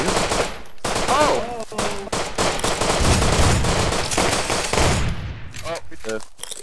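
Rapid automatic machine gun fire in the survival shooter Rust, loud sustained bursts with brief gaps, plus a few extra shots layered in and a voice briefly audible.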